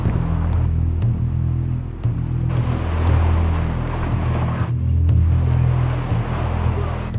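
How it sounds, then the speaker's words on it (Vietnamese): Strong sea waves surge against houses on Kiribati, a continuous loud rushing wash of water with swelling and receding roar. "Không cần cuồng phong bão táp, những con sóng mạnh vẫn tấn công vào nhà của các cư dân."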